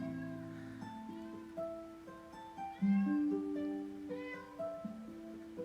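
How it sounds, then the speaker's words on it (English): A house cat meows faintly in a few drawn-out, rising and falling cries over quiet, sustained background music tones, fairly distant and low in level. "Sorry, my cat is going crazy right now."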